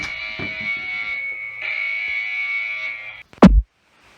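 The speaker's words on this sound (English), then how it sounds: "you will hear the alarm in the background at the house" A Wi-Fi smart wireless home alarm system sounds after a door is opened, giving a loud, steady electronic tone that holds for about three seconds before cutting off with a short, sharp burst at the end.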